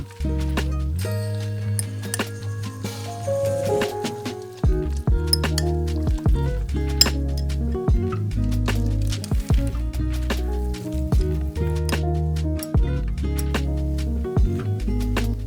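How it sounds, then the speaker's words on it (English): A fork mixes breakfast ingredients in a bowl with quick, repeated metallic clinks and taps against the side, a loud, close, busy rhythm that runs nearly nonstop. "Mix everything really well with a fork."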